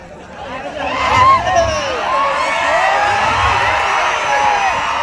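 A crowd at an entertainment kushti wrestling bout in Maan taluka roars and cheers, with rising whoops and whistle-like calls over a steady, loud hubbub that swells early and then holds throughout.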